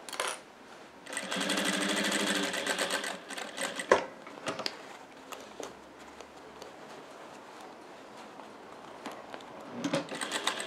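Sewing machine stitching a double fabric glasses case, a loud close burst of rapid, even needle clatter followed by scattered clicks, handling noises and a lower, softer stretch of stitching.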